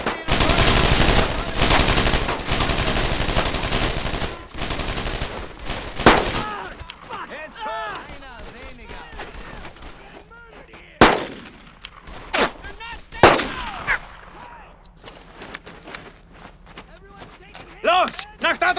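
Heavy automatic machine gun fire from an MG 42 in the WWII shooter Brothers in Arms: Earned in Blood roars loud and dense for several seconds, then breaks into scattered sharp bursts and single shots, with shouting voices amid the battle.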